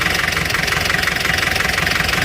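A diesel car engine idles steadily at close range, a dense, even clatter with a fast rhythmic knock that holds constant throughout with no voices.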